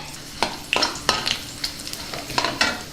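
A spoon scrapes and stirs in a pan in several brief strokes over a soft sizzle of spices frying in oil. Faint, with no voices.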